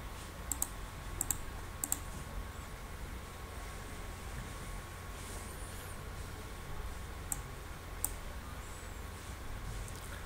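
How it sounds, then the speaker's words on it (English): A computer mouse clicks quietly on a Windows PC during disk partitioning setup, sounding as a few scattered, faint clicks, some of them paired, over a steady low hum, with no speech. "continue clicking next."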